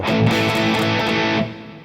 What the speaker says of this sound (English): So like you're playing with distortion, right?